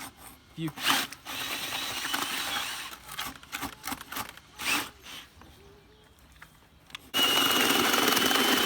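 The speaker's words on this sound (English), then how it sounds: "Make sure my drill's not overheating." A power drill mixing material whirs in uneven bursts, starting and stopping, then runs steadily and loudly at the end; faint background noise between bursts.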